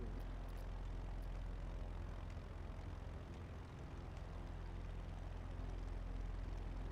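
A propeller airplane engine drones steadily in Microsoft Flight Simulator 2024 on Xbox Series X, a continuous low rumble with a constant level throughout and no talk.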